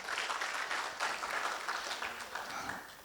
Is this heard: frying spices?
no